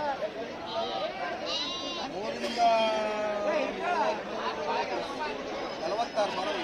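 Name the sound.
goats bleating at a sheep and goat market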